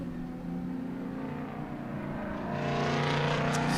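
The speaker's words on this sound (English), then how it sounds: "Those are some loud race cars." Race cars at Sebring International Raceway roar and rev, a loud engine drone that swells and brightens toward the end as cars pass close by, with no talking.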